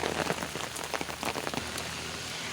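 Heavy rain pours down in Rourkela, a dense steady hiss with scattered drop impacts on nearby surfaces, continuous and close with no voices.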